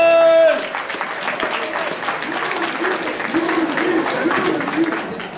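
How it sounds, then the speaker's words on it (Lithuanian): Applause from an audience at a 2014 school freshman initiation celebration greets the school director, a steady broad patter of clapping lasting several seconds after a brief tone, with faint voices mixed in. "Pasitikite plojimą!"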